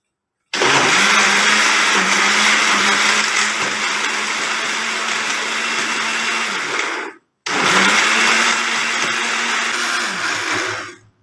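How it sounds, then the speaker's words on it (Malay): A kitchen blender grinds a mixture with added water, a loud continuous whirring motor running for about seven seconds, cutting off briefly, then starting again for several more seconds. "Dan kisarkan menggunakan pengisar."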